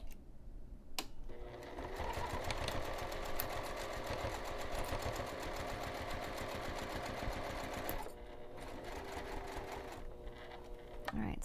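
A domestic sewing machine stitches fabric for a removable zipper pocket at regular stitch length, a fast steady mechanical whir with rapid needle ticks, briefly pausing near the start and again around two thirds through before running on.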